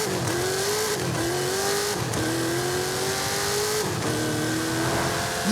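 A 7.4-litre twin-turbo V8 pickup truck in the racing game Forza Horizon 5 revs hard through repeated gear changes, each rising engine pitch briefly dropping at the shift, loud and continuous with no talk.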